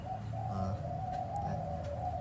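A spotted dove coos close by in a sustained, droning call, with a few faint chirps in the background.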